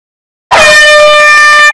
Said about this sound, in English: Why would you blast a goddamn air horn at 3 a.m. in the morning?